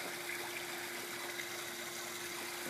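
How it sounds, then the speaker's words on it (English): A waterfall spills into a backyard swimming pool, giving a steady, close wash of splashing water with a constant low mechanical hum underneath. No one speaks. "look at that waterfall."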